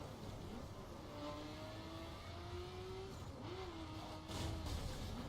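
A stock car tears through corners at around 120 miles per hour in The Crew racing game, its engine a steady, faint drone with rising and falling whine and a brief scrubbing tire noise near the end.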